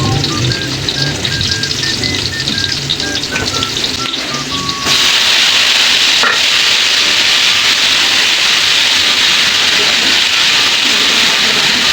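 Onion and ginger sauté in a hot pan with a loud, steady sizzling hiss that jumps in intensity partway through, as if more is added, over faint background tones.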